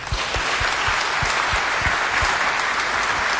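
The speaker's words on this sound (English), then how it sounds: "would you join me in one last set of applause for them?" Seminar audience applauds steadily, a dense, even patter of many hands clapping at close range, sustained and alone without any talk.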